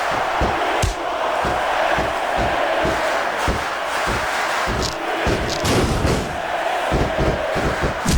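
A wrestling arena crowd in the WWE SmackDown vs Raw 2006 video game roars and cheers steadily, with repeated thuds and slams from the ring pounding through the loud, continuous noise.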